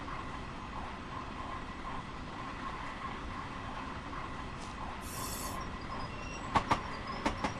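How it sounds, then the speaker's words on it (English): A New York train in the Train Sim World VR game rumbles steadily as the emergency brake is pulled, with a hiss of released air midway and sharp metallic wheel squeals and clanks near the end. "Let's test this out by pulling the emergency brake valve."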